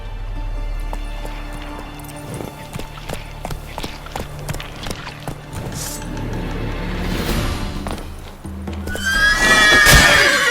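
In The Witcher 3 on PS5, the horse Roach clip-clops along on hooves, the steps speeding up, and finishes with a loud, bright neigh at the close.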